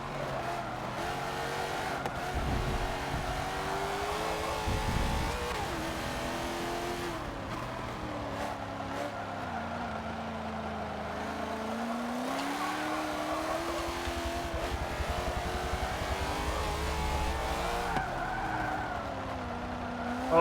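A race car in the Forza Motorsport 7 video game during a multiplayer race, its engine droning steadily with rising and falling revs while tires squeal and skid almost continuously throughout.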